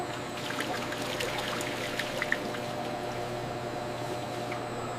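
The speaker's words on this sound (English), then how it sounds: "The concentrate is poured into the syrup blending tank." Coca-Cola concentrate pours into a syrup blending tank at a bottling factory, a steady liquid trickle and stream with scattered small splashes over a low mechanical hum.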